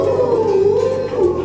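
A human voice imitates a fox's howl with one sustained, wavering, mid-pitched wail that slides gently in pitch, loud and close.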